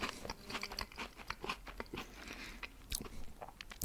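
Crunchy, crispy, chewy cookies being bitten and chewed close to the microphone, a steady run of crisp crunches and moist chewing clicks with no talking, in an intimate ASMR setting.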